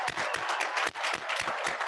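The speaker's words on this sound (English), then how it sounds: "Let's have one more round of applause for the alumni class of 2021." Dense, steady applause from a commencement audience for the graduating class of 2021 at Wilbraham & Monson Academy, a broad wash of many hands filling the hall with a brief dip partway through.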